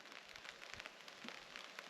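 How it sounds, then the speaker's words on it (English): Light rain patters steadily on a tarp shelter at a wild camp, a soft, close, continuous crackling hiss of fine drops with no voices. "pitter pattering on the tarp."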